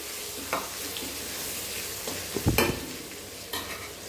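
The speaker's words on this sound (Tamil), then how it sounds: "நம்ம இந்த ஊற வச்ச சோயா சங்க சேர்த்துக்கலாம் நல்லா மூறு மூறுன்னு பொறிச்சு எடுக்கணும்" Soaked soya chunks deep frying in hot oil, a dense continuous bubbling sizzle close by, with a few sharp stirring clacks and a stronger crackling burst midway.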